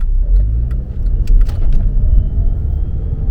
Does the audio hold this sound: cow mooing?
no